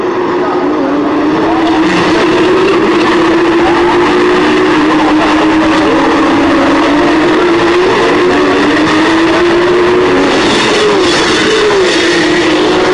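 Porsche Carrera Cup race cars at Le Mans on the Circuit de la Sarthe, with a loud, steady engine drone and a rising, falling pitch as cars pass, continuous throughout.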